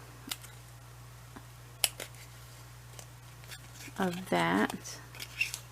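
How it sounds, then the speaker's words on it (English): Small precise scissors trim felt around the edge of a decorated paper clip, giving faint close snips and crisp rustles over a steady background hum, with a short stretch of talk near the end. "So now we're just going to trim. I think I need my better scissors."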